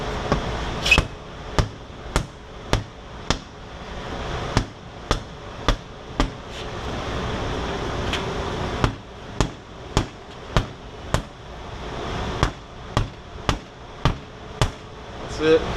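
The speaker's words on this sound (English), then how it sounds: "Let's get a tire hammer." A tire hammer pounds the bead of an old tractor tire on its wheel, a series of sharp metallic whacks in uneven rhythm, some in quick runs and some spaced out, ringing close and loud over faint background noise.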